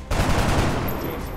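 Burst of gunfire in the video game XCom, a brief loud sustained volley of rapid shots.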